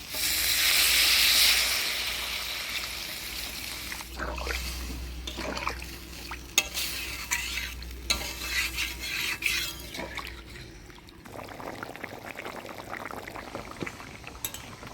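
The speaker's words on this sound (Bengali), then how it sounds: "এবার জল দিয়ে দিচ্ছি" Water pours into a pan of frying spiced semolina, potatoes and taro, a loud hissing rush at first that settles into bubbling, clattering stirs and a lower simmering sizzle.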